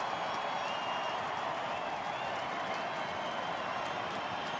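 A baseball stadium crowd on its feet roars and claps at a Texas-Minnesota game, a constant, wide wash of cheering that holds steady at a distance with no break.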